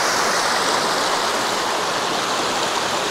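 Olginsky waterfalls and their stream in eastern Abkhazia, a steady broadband roar of falling and rushing water, loud and unbroken, with no voices.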